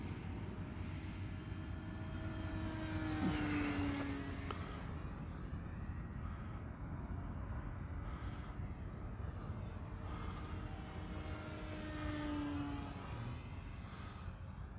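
A radio-controlled P-51 Mustang model plane flying at a distance, with a steady, fairly faint engine drone that rises and falls as it passes, twice sweeping in pitch, and no speech.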